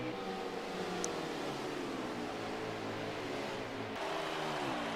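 Race car engines drone steadily at Dover during a stock car race broadcast, a continuous layered roar with harmonic whine holding at one loud level throughout, no talk over it.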